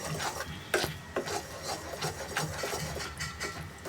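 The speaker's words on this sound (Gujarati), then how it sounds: "ગોળને કન્ટિન્યુ વઘારતા રહેવાનું છે." Rough scraping and rubbing of a spoon stirring jaggery syrup in a pan for chikki, repeated in irregular strokes with occasional sharper knocks, close and fairly steady.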